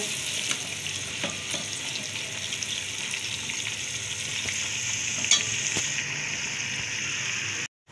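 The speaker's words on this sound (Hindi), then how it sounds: "लहसुन को मैं ब्राउन करूँगी गोल्डन ब्राउन" Garlic sizzles and crackles steadily in a hot pan with occasional stirring clinks, close up and continuous until it cuts off abruptly at the end.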